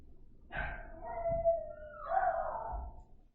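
Dogs howling at close range in a home, two long rising and falling howls over about three seconds with a brief bark-like onset, heard alone without talk.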